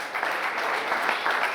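A crowd applauds steadily for sportsmen being called up onto a stage at a handball Champions League event, a dense, even wash of clapping throughout without a break.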